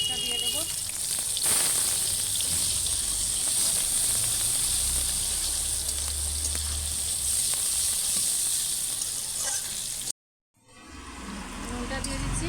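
Onion goes into hot oil in a pan with black cumin and green chilies for a rohu fish curry, producing a steady close sizzling hiss that briefly cuts out before resuming.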